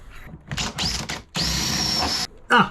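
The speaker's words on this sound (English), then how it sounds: "Pilot bed is through, so I can go outside and drill back in." A power drill whirs in several short bursts, then a longer steady run as it bores through a wooden boat deck of plywood and fiberglass, ending with a brief high-pitched spin.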